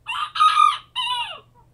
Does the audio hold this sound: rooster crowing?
yes